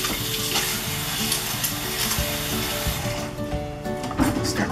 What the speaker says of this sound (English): Start mixing with this spoon just because I don't want to bruise